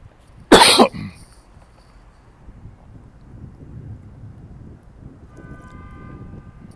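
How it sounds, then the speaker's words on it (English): A single sharp, loud smoker's cough bursts out near the start, followed by quiet rumbling background noise and a faint hum. "I hope that smoker's cough don't start."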